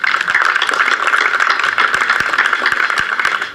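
Audience applause at an overdose memorial gathering in Columbia County, Pennsylvania: dense, steady clapping from a crowd, loud and continuous throughout without a break.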